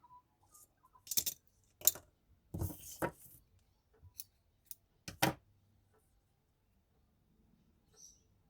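Scissors snip tatting thread ends on a shuttle-tatted bookmark: a few sharp, close snips and small handling rustles scattered through an otherwise quiet stretch, with no talking.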